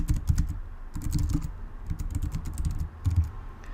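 Fingers type rapidly on a computer keyboard in close, clicky bursts of keystrokes with brief pauses in between, and no voice is heard.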